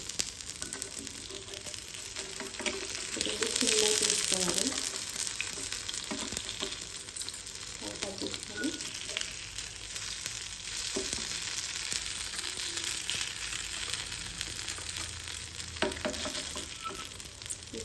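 A snack mixture sizzles and bubbles in a pan while a utensil stirs it now and then. The frying hiss stays steady and close for nearly eighteen seconds, with occasional scraping strokes.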